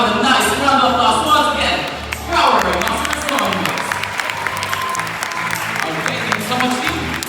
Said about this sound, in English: how about a nice round of applause once again for our rhinoceros hornbills